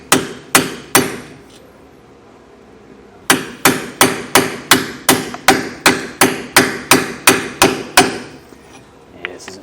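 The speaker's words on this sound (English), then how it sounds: "And then we'll take our hammer." A hammer drives a part into a Dexter Vault hybrid lubrication axle hub: three sharp metallic strikes, a short pause, then a steady run of about thirteen evenly spaced, ringing blows, loud and close.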